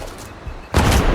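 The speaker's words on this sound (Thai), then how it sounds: "ปาไปเรียบร้อย ระเบิดไปวะ" A thrown grenade explodes in the video game Sniper Ghost Warrior Contracts: one sudden loud, heavy blast cuts in partway through and rumbles on, after a quieter stretch.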